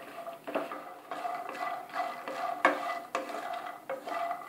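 Lotus seeds and lentils being roasted in ghee over a very low flame and stirred in a pan, repeated scraping and rattling strokes with a faint sizzle, close and moderately loud, no talk.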